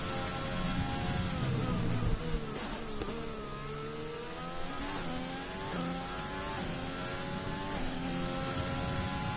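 Race car in the sim racing game CRC at Bahrain, its engine screaming steadily and revving up through repeated gear changes as it drives toward the line, loud and continuous with no voices.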